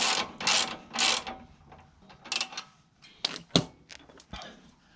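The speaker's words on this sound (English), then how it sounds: "So you put the socket onto the bolt and wiggle it a bit." Socket wrench on a bolt in BMW F20/F30 suspension, fitting Eibach lowering springs: close mechanical ratcheting and metallic clicks in several bursts, with a few sharp knocks near the end and no talking.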